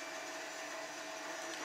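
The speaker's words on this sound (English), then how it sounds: "You can hear the printer going on in the background." A 3D printer printing TPU runs steadily in the background, a constant whirring hum of motors and fans that stays level and unbroken throughout, with no talking.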